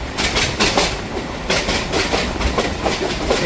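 A local train on the Madhyamgram to Majherhat route runs past the Patipukur line junction, wheels clattering over rail joints in a loud, rhythmic clickety-clack over a constant rolling roar.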